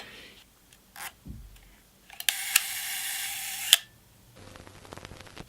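A Yashica Mat medium format film camera makes a short mechanical whir and click, a soft sustained buzz like a timed shutter running, then small handling noises at close range.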